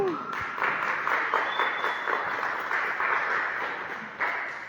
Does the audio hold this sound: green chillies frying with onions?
no